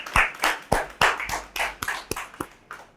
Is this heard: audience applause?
yes